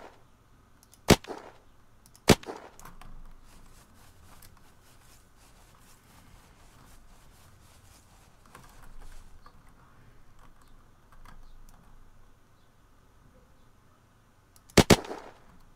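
Gunshots in the zombie survival game Unturned ring out as sharp, loud single cracks: two a second apart early on, then one more much later, with quiet game ambience between.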